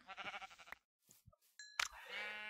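A sheep in the Minecraft video game gives short, quavering bleats, clear and close, separated by brief silences and a few small game sound effects.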